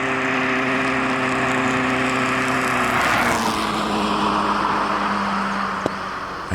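A car engine drones steadily and loudly as the vehicle approaches and passes near moose in the wild, its pitch sweeping midway and then fading slightly. No talking is heard.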